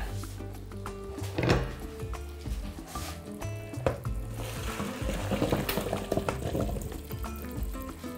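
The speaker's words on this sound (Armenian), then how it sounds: "Քամենք արգանակը" Beef broth is poured through a strainer, giving a soft, continuous trickle and splash of liquid. Faint clinks of kitchen utensils sound nearby.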